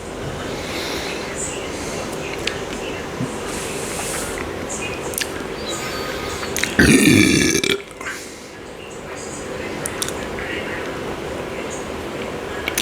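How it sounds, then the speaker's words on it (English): A single loud, drawn-out burp after drinking a Bodyarmor Fit grapefruit drink, standing out clearly against steady background noise. "That last belch I did not like"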